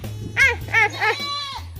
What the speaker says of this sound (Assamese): ছাগলীকেইটাক পানী খোৱা লাগে জহনীকেইটা চিঞৰি আছে